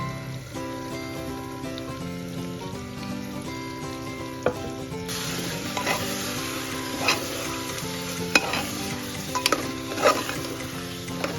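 Tomato paste hits a hot pan for a mutton dish and fries with a steady, loud sizzle, swelling midway as stirring begins. Occasional spoon clacks land over the hiss, with tonal music playing underneath.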